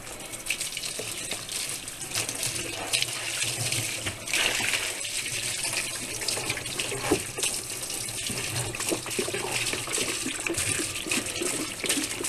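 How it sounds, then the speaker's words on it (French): Water pours over a trap in a bucket, giving a steady, close gushing splash that runs unbroken throughout with small surges in loudness, with no talk over it. "Je mets un petit peu d'eau par-dessus, mais là je vais mettre quasiment une chaudière de 5 gallons."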